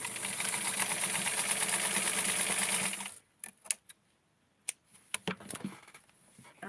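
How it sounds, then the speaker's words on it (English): A sewing machine runs fast and steady for about three seconds, stitching elastic onto small doll clothes, close up. It then stops, leaving quiet handling clicks and rustles. "I put the elastic right here on the edge, have a little bit peeking out, and just sew it into place."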